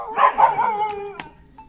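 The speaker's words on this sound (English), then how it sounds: "Oh, here we go. Dogs fighting." Dogs in Thailand fight, with a quick run of close, snarling yelps and barks that fade out within a couple of seconds.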